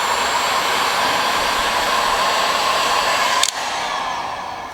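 A heat gun blows a steady, loud airstream over car wrap vinyl for about three and a half seconds, then briefly cuts and resumes a little lower.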